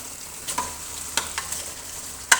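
Bone-in chicken frying in a karahi for an achari chicken karahi: a soft continuous sizzle broken by a few sharp clanks of stirring, close and without voices.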